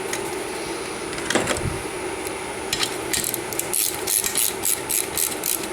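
A bolt being tightened on a Banshee shift drum, fork and detent arm assembly gives a run of quick ratcheting clicks, close and steady, that grows busier toward the end with no talking.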